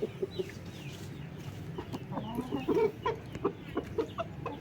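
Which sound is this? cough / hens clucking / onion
hens clucking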